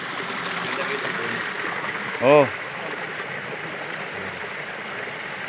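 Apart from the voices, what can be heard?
river water flowing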